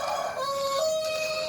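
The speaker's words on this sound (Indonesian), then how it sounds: "Itu suara kokokan ayam." Rooster crowing at dawn outdoors, a single long, clear cock-a-doodle-doo standing alone and fairly close, with no voices over it.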